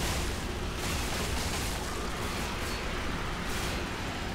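Gears of War 3 gunfire rumbles on in a dense, continuous barrage, loud and heavy, with booming low bursts layered throughout and no clear gaps between shots.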